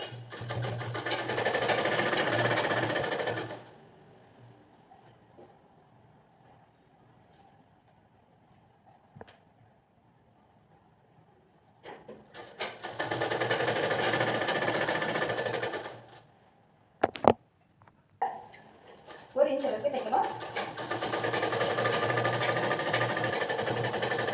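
A sewing machine stitches a folded hem in three long runs of rapid, steady mechanical chatter, loud and close, with quiet pauses and a few clicks and handling sounds between the runs.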